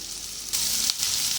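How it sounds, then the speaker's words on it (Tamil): Chopped onion fries in a pan for Hyderabad paneer masala, giving a brief, loud, hissing sizzle that swells slightly midway, with no talking. "இது நல்லா இப்போ நான் வதக்கிக்கிறேன்."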